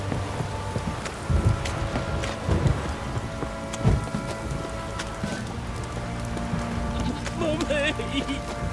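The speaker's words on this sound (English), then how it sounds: "This downpour's a bastard, it is." Steady downpour with rolling thunder in The Witcher 3, rain hissing continuously while a few deep rumbles and cracks swell through; a voice speaks over it in places.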